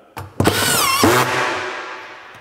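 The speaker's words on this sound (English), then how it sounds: "Now watch me put a screw in with the Makita screw gun." A Makita screw gun drives a screw into steel in two quick bursts. The motor whines and climbs in pitch, then winds down and fades, loud and close with no talk over it.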